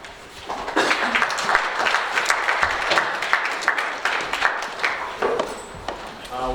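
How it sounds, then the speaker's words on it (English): An audience at a nutrition academic evening applauds steadily for several seconds, a dense wash of many hands clapping at moderate loudness that tapers slightly toward the end. "Can we give another round of applause?"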